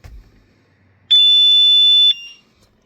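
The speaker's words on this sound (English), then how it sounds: "The alarm will give one loud beep and one flash of the indicators." A car alarm in garage mode gives one loud, steady electronic beep lasting about a second, clean and close, after a faint handling noise, then silence.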